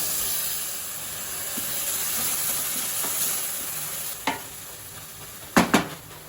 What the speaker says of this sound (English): so fry this for around 5 minutes